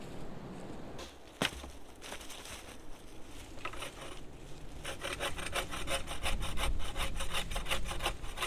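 Max Fuchs bow saw cutting through a wood branch outdoors, a close, steady back-and-forth rasping rhythm that grows faster and louder as the cut deepens, with a sharp knock early on.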